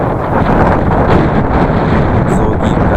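Strong wind across the Mongolian mountain steppe, a loud continuous roar buffeting the microphone with heavy low rumble throughout.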